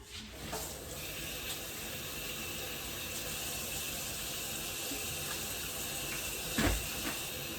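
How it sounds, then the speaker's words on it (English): Hands are washed under a running kitchen sink tap, a steady close splash and hiss of water throughout, with a brief louder splash near the end. "Okay, gonna wash my hands."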